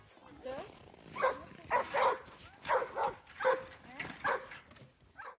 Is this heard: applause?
no